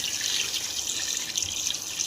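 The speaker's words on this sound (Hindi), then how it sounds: "तो इसमें डालेंगे हम 1 किलो पानी। तो इसमें पानी डालेंगे।" Water is poured into a cooking pot while making beef white kadai, a short bright splashing stream close by, heard alone.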